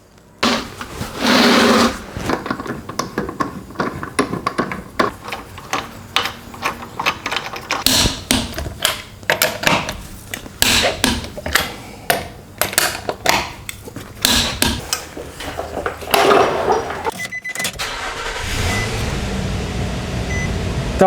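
A wheel goes back onto a Nissan Xterra with a 4.0L V6: repeated close, sharp ratcheting clicks and metallic clanks in irregular bursts, then a quieter stretch at the end.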